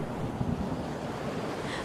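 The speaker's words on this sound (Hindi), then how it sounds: "बारिश जैसे आसमान से टूटकर बरस रही थी।" Heavy rain pours down on a hut whose roof is leaking, making a steady, dense roar of water that fills the whole moment with no voices.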